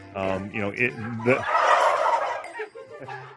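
Domestic turkeys gobbling, several rapid warbling calls up close followed by a rough burst of gobbles and a few shorter calls, loud and alone.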